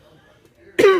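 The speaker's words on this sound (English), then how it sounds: "I got so excited I was coughing" A single sharp, loud cough arrives abruptly at the end after near silence, close to the microphone.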